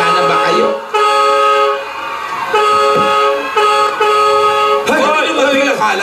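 A vehicle horn sounds in sustained tonal blasts, loud and close, starting and stopping several times, while people talk over and between the honks.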